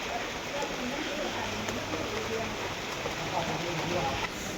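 Steady rain hisses and patters on surfaces outdoors in rural Thailand, a continuous even wash of drops close by.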